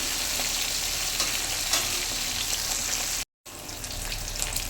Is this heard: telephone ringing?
no